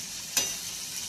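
Chillies with salt and turmeric are mixed in a pan over a high flame, a low, steady sizzle with a single quick scrape of stirring partway through, close by and without voices.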